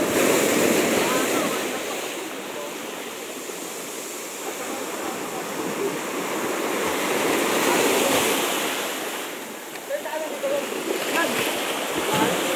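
Strong sea waves churning near rocks, a constant broad rush of surf swelling and easing, heard fairly close with no clear voices over it.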